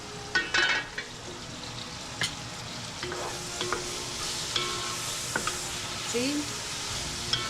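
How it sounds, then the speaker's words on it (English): Onion sizzles and frying in a pan while a utensil stirs, with scraping clicks and knocks over a steady hiss; a voice speaks briefly in the background. "Fry onion."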